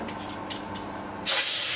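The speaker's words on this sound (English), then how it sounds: "Just give that hole a blowout." Compressed air blasted into a drilled hole while fitting a Dorian tool post, a sudden loud hissing burst that follows a quieter background hum.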